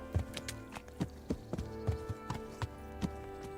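Horse hooves clip-clop in a steady walking rhythm in Kingdom Come: Deliverance, crisp even taps repeating about every half second, moderately close with no talking.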